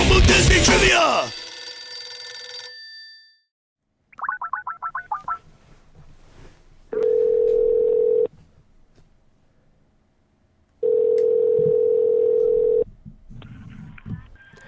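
A payphone in a booth at the United Kingdom pavilion rings with several quick bursts, then a steady dial tone sounds twice in long stretches, separated by quiet, with faint talk and background noise between.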